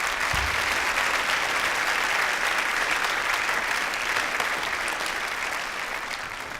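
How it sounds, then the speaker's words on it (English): A crowd applauds steadily at a high school Veterans Day assembly, dense, even clapping that holds at a strong level throughout with no speech over it. "Let's give them one more round of applause."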